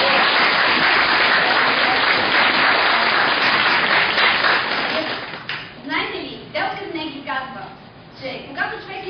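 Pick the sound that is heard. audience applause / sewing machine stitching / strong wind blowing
audience applause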